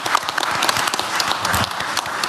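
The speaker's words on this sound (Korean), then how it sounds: "지금 박수를 칠까요?" A short burst of applause from a group of people at a formal meeting, dense, steady clapping lasting a couple of seconds.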